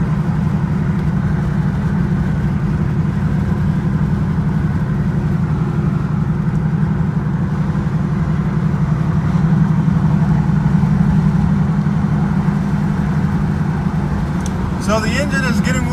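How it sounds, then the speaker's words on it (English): A 2014 Ford Raptor truck engine idles while warming up, giving a steady, loud low rumble close by that continues throughout, with a brief clatter near the end. "engine is getting warmed up"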